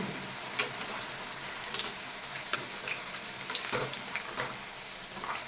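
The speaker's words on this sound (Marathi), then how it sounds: "फुल गॅसवर शेव भाजून घेतली की शेव मऊ होते आणि आतूनही छान भाजली जाते" Sev made from gram flour frying in very hot oil over full flame, a dense continuous sizzle and crackle with occasional sharper pops, moderately close and with no talking.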